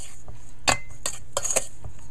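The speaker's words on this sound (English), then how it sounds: "Now you blend everything together." A metal spoon clinks and scrapes against a bowl in a few quick, close strikes as dahl roti ingredients are blended together, with a low steady hum underneath and no voices.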